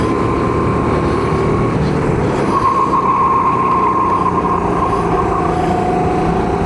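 Racing karts at an inter-company kart race in Caudecoste, France, drone loudly and continuously, engine pitch rising and falling as they pass close by, with no pause in the noise.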